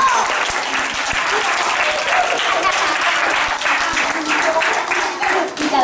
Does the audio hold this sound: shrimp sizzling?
no